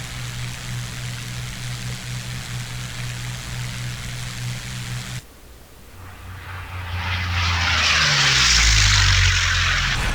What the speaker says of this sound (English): You can hear the engine's just not working as hard when you get down to these lower RPMs